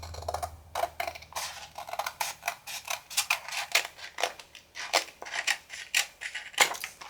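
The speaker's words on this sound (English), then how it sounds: "I'm just giving this a cut." Scissors cutting through paper for an envelope journal craft, a close series of crisp snipping strokes in an uneven rhythm, about a dozen cuts with short pauses between, no talking.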